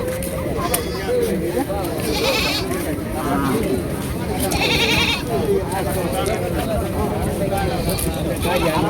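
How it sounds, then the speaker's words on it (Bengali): Goats bleat repeatedly at a crowded goat market in Nandina, Jamalpur, several short bleats rising over the steady murmur of a busy crowd, with someone talking near the microphone throughout. "আমি এই মুহূর্তে রয়েছি জামালপুর জেলার নান্দিনা ঐতিহাসিক ছাগলের হাটে"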